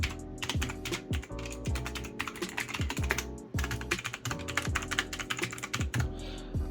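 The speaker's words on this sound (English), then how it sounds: "I'm running the SteelSeries Apex 5 mechanical gaming keyboard" Rapid typing on a SteelSeries Apex 5 mechanical gaming keyboard, close and crisp, with dense clusters of key clacks and short pauses between bursts, no voice over it.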